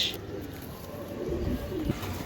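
Racing pigeons, including a hen bird, give soft low cooing calls close by, with a few murmuring coos rising and falling over a steady background hum.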